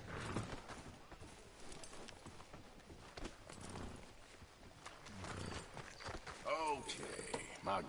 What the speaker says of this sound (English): ¿Dónde está mi caballo?